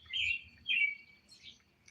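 Birds chirp outdoors in a quiet rural setting, with two loud close tweeting bursts followed by softer, more distant calls against a faint low rumble.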